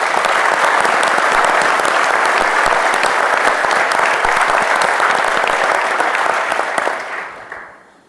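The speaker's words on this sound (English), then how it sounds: "So a round of applause to them" A conference audience at the DNN World closing panel gives a loud, dense round of applause for the event organizers, sustained for several seconds before tapering off quickly at the end.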